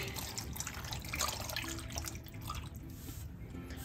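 A cup of water is poured into a cooking pot while making sinaing na tulingan with mango, a quiet steady trickle and drip of liquid lasting a few seconds with no talking.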